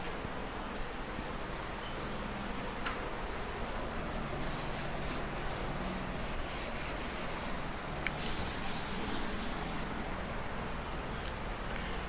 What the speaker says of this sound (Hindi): चलिए अब मैं इसे रब करती हूँ।